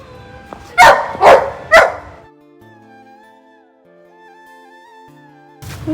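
A hurt dog with a high fever lets out three loud, close yelping cries in quick succession, followed by a quieter stretch with a faint high tone, then another cry at the very end.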